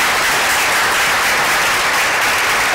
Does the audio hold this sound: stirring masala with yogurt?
no